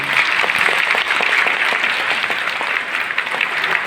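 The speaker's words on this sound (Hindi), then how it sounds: "अच्छा एक बार जोरदार ताली अपने लिए बजा दीजिए।" An audience at a cryptocurrency training seminar breaks into loud, sustained applause, a thick even wash of many hands clapping close to the microphone.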